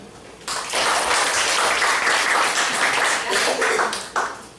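Loud applause welcoming a ninth-grade student presenter at an international school's summer course closing ceremony, starting abruptly and holding steady for several seconds before cutting off.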